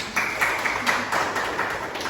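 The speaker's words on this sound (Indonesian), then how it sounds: "Tepuk tangan untuk semangat" Applause from students in a classroom during a micro-teaching lesson, a steady patter of many hands clapping at moderate volume, with a faint voice underneath.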